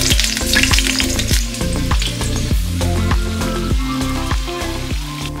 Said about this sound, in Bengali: ততক্ষণে আমি আলুটাও ফ্রাই করে নেবো সাইড বাই সাইড